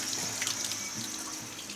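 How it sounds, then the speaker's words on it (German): Tap water runs at an outdoor campsite washhouse on Corsica, a brief, even splashing stream at moderate volume with no speech. "Ich weiß gar nicht, ob hier die Wasserhähne funktionieren."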